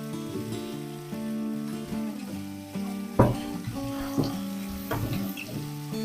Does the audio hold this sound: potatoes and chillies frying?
yes